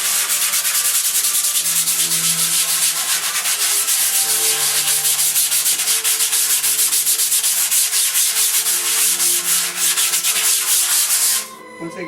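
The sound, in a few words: sanding a gesso-coated canvas by hand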